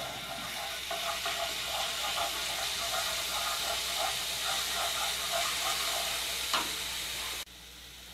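Steady sizzling and crackling of garlic frying in hot oil, continuous and fairly close, with a few faint clinks near the end.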